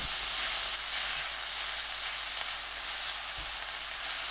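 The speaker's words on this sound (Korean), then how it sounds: "팬에 식용유 2큰술, 김치 300g, 사탕수수 원당 반큰술 넣고 중불로 2분 볶아주세요" Kimchi stir-frying over medium heat in a pan with two spoonfuls of cooking oil and a little raw cane sugar: a steady, dense, close sizzling hiss throughout, with no voices.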